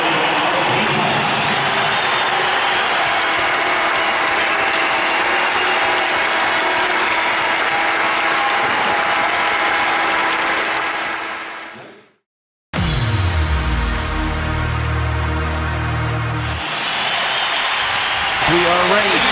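Crowd at an ice hockey playoff semi-final at the National Ice Centre applauds and cheers loudly and steadily, cut by a brief drop in sound before the noise resumes with a low horn-like tone.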